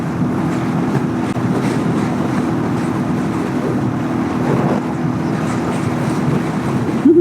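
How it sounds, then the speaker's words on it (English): Constant low wind rumble buffeting the microphone, a steady roaring drone with no voices, fairly loud throughout. "It's windy out here today."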